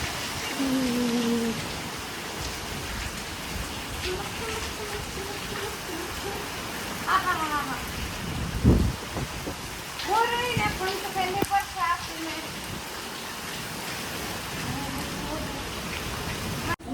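Steady rain falling as a constant hiss, with voices speaking now and then over it.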